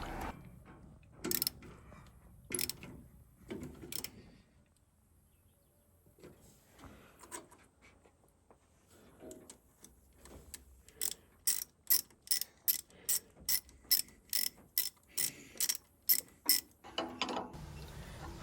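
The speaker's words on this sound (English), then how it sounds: "Once the new hose is in position, we can clamp it down." Clamping a new radiator hose on a Farmall F-14 tractor: scattered metallic clicks and scrapes, then a quick regular series of ratcheting clicks from a tightening tool, close up and fairly faint.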